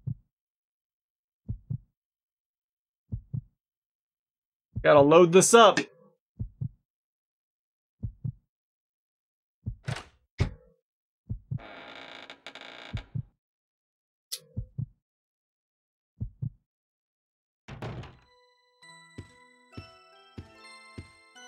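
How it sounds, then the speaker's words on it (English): Steady heartbeat in Resident Evil: Code Veronica X: low thumps repeat at a regular slow pace across near silence, with a brief speaking voice and a few soft chimes and clinks between them. "Why is my heart beating?"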